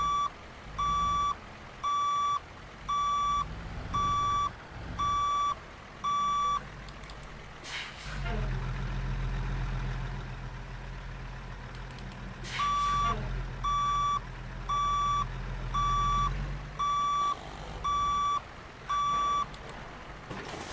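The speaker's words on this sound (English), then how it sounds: "So this beeping noise. It's so loud." A truck in American Truck Simulator sounds its reversing alarm, a loud run of evenly spaced beeps that stops, leaves a low engine rumble, then starts again. Someone talks over parts of it.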